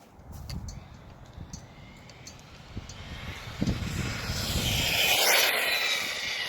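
A HoBao Hyper SS caged RC truggy speeds past, its electric motor giving a rising high-pitched whine that builds and grows louder toward the end over a background hiss of the run.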